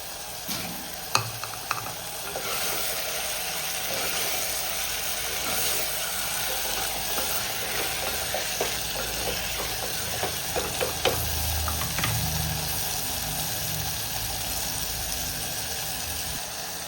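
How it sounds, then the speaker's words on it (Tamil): Steady sizzling as eggplant fries in a pan, with occasional stirring clatter and scrapes, fairly close, no talking. "கத்திரிக்காய் வதங்கிடுது."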